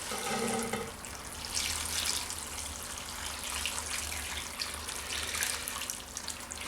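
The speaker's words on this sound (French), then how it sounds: "maintenant, on est prêt à la verser sur les cornichons" Hot pickling brine, just brought to the boil, is poured over gherkins, a steady close splashing pour that runs on without a break.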